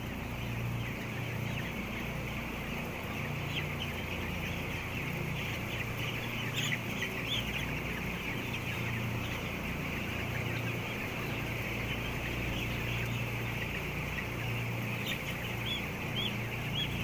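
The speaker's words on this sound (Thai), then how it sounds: "ไก่พ้องกินอาหารกันนะ" A flock of chickens clucks continuously while eating, many overlapping close and mid-distance calls forming a dense, steady farmyard chatter.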